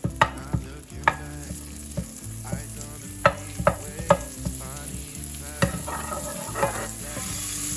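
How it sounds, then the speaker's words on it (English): Butter melts and sizzles in a pan, a steady fry with a low background hum, broken by a run of sharp clicks and knocks from a utensil against the pan; no voices. "you're gonna put in 2 more tablespoons of butter. You're gonna start melting that down."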